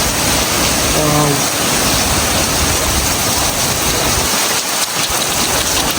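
Heavy rain pours down during a typhoon in Canada, a dense, loud, continuous roar of drops hitting surfaces, with a voice briefly heard over it.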